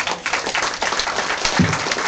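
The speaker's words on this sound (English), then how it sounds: "Ladies and gentlemen, how about a round of applause for" Applause from the audience at a Hawaii County Council session for the newly installed Council Chair, a dense wash of many hands clapping steadily throughout at moderate loudness.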